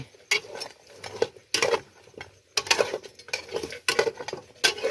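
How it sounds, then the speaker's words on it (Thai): Pork bones and ginger being stir-fried in a pot, with repeated clattering scrapes and knocks of a utensil against the pot in irregular bursts, close up, with faint sizzling underneath and no talking. "ขัวกระดูกหมูให้มันหอมๆแล้วก็เอาน้ำลง"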